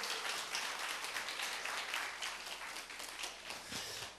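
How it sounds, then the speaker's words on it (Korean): Audience applause at a church lecture gathering, a steady wash of many hands clapping at fairly low level, continuing evenly for several seconds. "박수."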